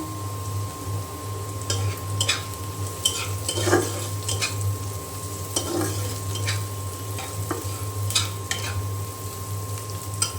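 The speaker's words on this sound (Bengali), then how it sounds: "আমি পেঁয়াজ কুচি দিয়ে দিয়েছি তেলে" Chopped onions fry in hot oil in a home kitchen, a steady sizzle running throughout, with a utensil stirring and scraping the pan at intervals and a constant electrical hum behind it, no talking.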